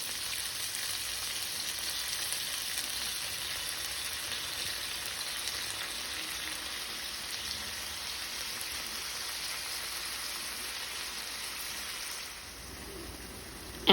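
Shrimp sizzle steadily in a hot pan during a vegetable noodle stir fry, a continuous close hiss and crackle like rain that eases slightly toward the end, with no voices.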